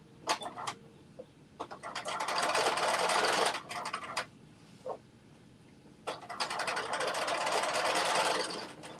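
A domestic sewing machine stitching fabric for a Butterick jumpsuit, running in bursts of rapid mechanical whirring with short stops between, close and clear with no talking.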